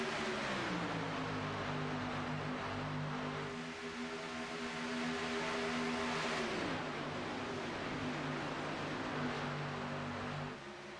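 Race car engine in a sim racing game at Talladega, droning steadily with harmonic engine tones that dip and shift pitch as the car leaves pit lane, continuous and fairly close, with no talk.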